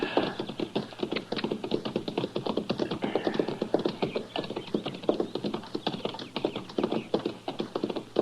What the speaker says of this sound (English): Now, that's horses down there, Chester.